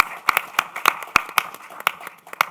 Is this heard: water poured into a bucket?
no